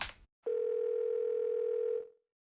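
A phone dial tone from a video game's phone call plays as a single steady electronic hum of about a second and a half, clean and fairly loud, after a brief noise at the start, with silence after.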